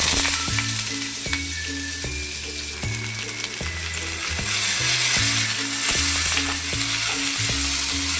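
Cut potatoes going into hot oil where a dried chili has already fried. A steady, loud sizzle runs throughout, over a regular low mechanical thumping and clicking pattern. No one speaks.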